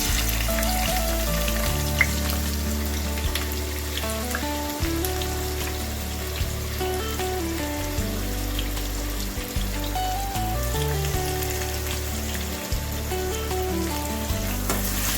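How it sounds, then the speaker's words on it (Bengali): Steady, dense sizzling of chopped onions frying in hot oil runs throughout, with a low continuous hum and occasional clinks underneath. "এবার আমি এর মধ্যে দিয়ে দেবো কেটে রাখা পেঁয়াজগুলোকে।"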